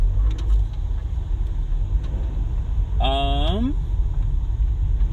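A car driving slowly on a road, its steady low rumble of engine and road noise continuous and fairly loud, with a brief rising whistle-like tone partway through.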